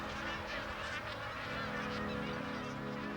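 A large flock of magpie geese at Lakefield in northern Australia, dense overlapping honks forming a steady, loud chorus throughout with no talk.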